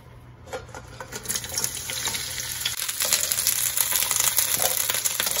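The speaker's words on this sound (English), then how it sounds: "the first thing we do is we're gonna add the snow peas" Snow peas sizzle and fry in avocado oil over high heat, a steady crackling hiss that builds gradually and stays loud and close, with no talking.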